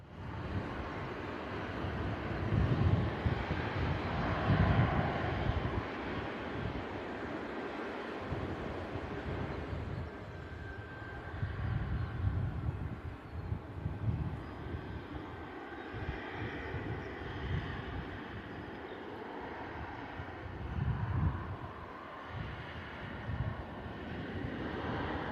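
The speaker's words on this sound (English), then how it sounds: "Jet2 holiday livery lining up on runway 27 this morning." Jet2 airliner in holiday livery lining up on runway 27 at Bristol Airport, a distant low engine roar swelling and easing in broad waves, with wind buffeting the microphone.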